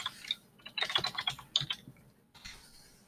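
Someone types an equation into Desmos on a computer keyboard: quick, close clusters of light key clicks with short pauses between bursts, and no speech.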